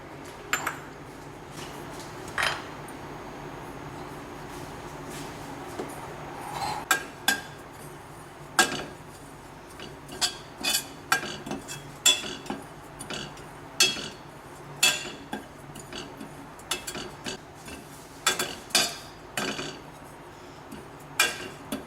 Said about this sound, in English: So we want to dry roast the coconut first